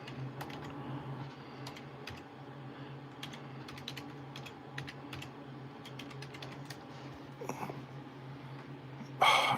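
Fingers typing on a computer keyboard, quick, close clicks in short irregular bursts over a low steady room hum, quiet and without speech.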